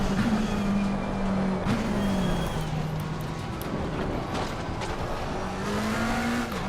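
GT3 race cars lap together in the Assetto Corsa Competizione racing game, their engines droning loudly and continuously with rising and falling pitch as they shift and accelerate.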